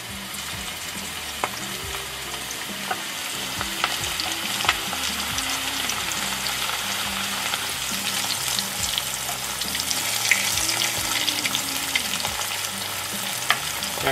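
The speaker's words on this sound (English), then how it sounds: "I like frying with coconut oil." Venison heart frying in hot coconut oil, a steady dense sizzle with crackling pops and stirring scrapes running close and loud throughout, with no voices.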